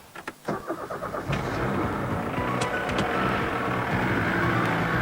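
Ford Orion diesel car engine cranking with a few uneven beats, then catching and running at a steady, loud, close idle rumble that continues to the end.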